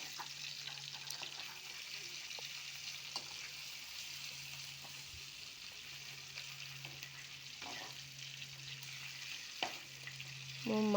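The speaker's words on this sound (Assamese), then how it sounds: "মোৰ মাছ ভজা হৈ গৈছে" Fish frying in a pan gives a quiet, steady sizzle and crackle for several seconds, with a few faint clinks and stirring sounds and no voices.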